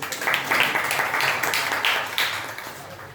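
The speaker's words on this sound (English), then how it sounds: "can you all clap for her" A room of people applauds a student at a computing training institute, their clapping a dense, steady wash of many hands that swells in a few waves, fairly close and with no voices over it.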